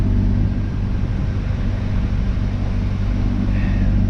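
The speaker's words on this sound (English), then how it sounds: "Now the blower motor is making a little noise, so it's probably dirty." A steady low hum of a dirty car AC blower motor running continuously, with a faint whirring rattle underneath; no voices.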